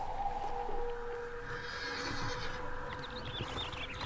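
Horses in the strategy game Zeus: Master of Olympus neigh faintly and briefly over a steady layer of game ambience and background music, with no one talking.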